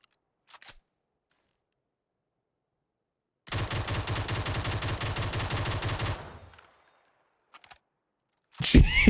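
FAMAS automatic rifle in the video game PUBG, a sharp burst of rapid full-auto fire lasting under three seconds amid otherwise quiet gaps, with brief isolated shots before and a loud burst at the end.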